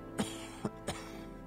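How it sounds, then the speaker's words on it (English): Three short, soft coughs in quick succession, close to the microphone against a quiet background. "I want to get that cough looked at."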